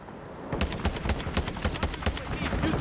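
Single-fire gunshots from Warzone crack out in a steady series of about ten evenly spaced, close, punchy shots, following a quiet opening half-second.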